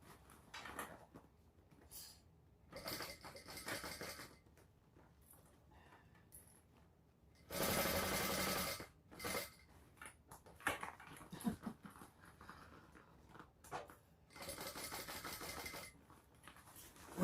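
A sewing machine stitching a bag in a home sewing room, intermittent bursts of rapid mechanical whirring and needle clatter separated by quiet pauses and small handling clicks, fairly faint and close.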